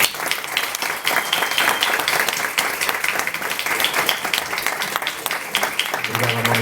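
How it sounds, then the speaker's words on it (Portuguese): An audience applauds at a book launch in a FNAC store in Lisbon, with a dense, continuous clapping that holds steady for several seconds before tapering as a voice begins at the end. "Mais uma salva de palmas."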